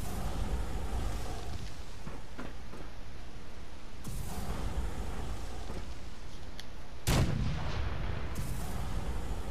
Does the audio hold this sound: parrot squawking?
no